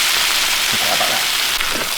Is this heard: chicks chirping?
no